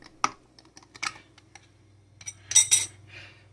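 A spoon clinks and taps against a container while orange juice is stirred into kilju, a few sharp scattered metallic knocks with a short cluster of rattling near the end, close and otherwise quiet.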